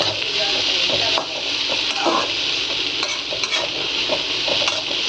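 Fried rice ingredients are stir-fried in a hot pan, with a loud, steady sizzle running throughout and frequent scraping stir strokes close up.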